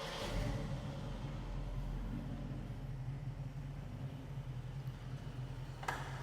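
A 1967 Camaro RS V8 with a new Edelbrock carburetor idles steadily after starting, a continuous low rumble held close for the whole stretch with a brief sharp click near the end.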